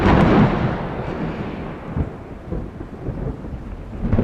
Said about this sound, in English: And so you have thunder and lightning.